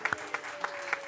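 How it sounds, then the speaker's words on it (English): A church congregation applauds, with scattered individual claps standing out over a soft, steady background of clapping in a brief burst. "Let's all give her a round of applause."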